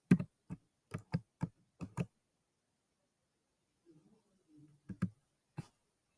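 A computer keyboard clicks under typing as a formula is entered in a spreadsheet, with a quick burst of about eight sharp keystrokes, a pause with faint rustling, then three more taps, close and fairly quiet.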